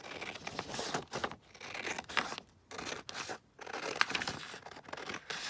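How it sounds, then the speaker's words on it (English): Scissors slice through a sheet of A4 paper being cut down for tags, several quiet crisp snips and rustles with brief pauses between cuts, close and faint. "I'm going to cut it down this way first"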